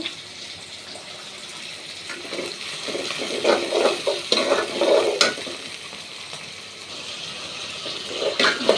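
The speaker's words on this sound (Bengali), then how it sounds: "দেখুন আমার মশলা প্রায় কষানো হয়ে গেছে" A spice paste of chilli, coriander powder and turmeric sizzling as it is sautéed and stirred in a pan, with bursts of scraping and frying that swell in the middle before settling back to a steady hiss.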